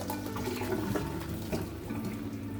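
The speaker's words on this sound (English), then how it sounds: "So we'll leave it here for the water to drain." Continuous rushing gurgle of water draining from a pot of boiled ingredients, close and fairly loud for a few seconds, with no voices.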